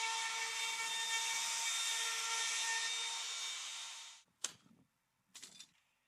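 A new, sharp router bit cuts into a kitchen countertop, giving a steady high whine for about four seconds before stopping, followed by two short scraping bursts.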